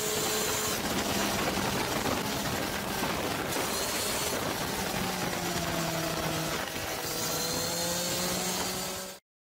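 Triumph 765 Daytona Moto2 motorcycle engine, a steady near drone with rising and falling pitch sweeps as the bike runs through its gears, continuous and alone with no talk, cutting off abruptly at the end.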